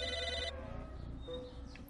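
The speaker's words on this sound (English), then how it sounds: "Sounds like a phone." A telephone rings in the video game Psychonauts, a short electronic ringing burst that stops abruptly, followed by quiet room tone and a brief thump at the end.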